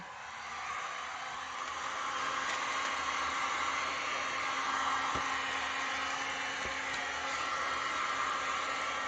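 A heat tool blows a steady, even hiss over a freshly poured Stone Coat Countertops Art Coat resin wave sculpture, continuous and close, with two faint clicks partway through.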